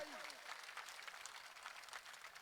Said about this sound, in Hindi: एक बार ताली पीट के बता दो भाई